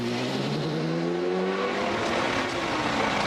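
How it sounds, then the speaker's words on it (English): A Ginetta race car, driven by Nigel Mansell, pulls out of the pit lane at Silverstone during a 1000 km endurance race, its engine rising steadily in pitch as it accelerates, loud and close over a constant hum of other cars on the circuit. "Their Ginetta was finally fixed and on its way out of the pits, with Nigel Mansell back behind the wheel"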